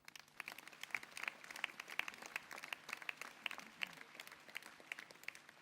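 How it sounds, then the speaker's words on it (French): Townspeople at a mayor's New Year reception applaud the evening's organisers with soft, distant, evenly paced clapping from a modest crowd, continuing for several seconds. "On peut aussi les applaudir"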